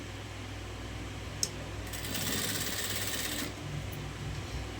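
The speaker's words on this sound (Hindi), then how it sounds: "ये मैं आपको सारी सिलाई लगा के दिखाती हूँ कि बाद में इसकी लुक कैसी आती है" A sewing machine stitches along joined lace trim in a steady, close whir over a constant low hum, with one sharp click near the start.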